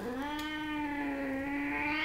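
An old cat with heart failure and chronic cystitis, during a home veterinary visit, lets out one long, drawn-out complaining meow close by, holding a steady tone for about two seconds.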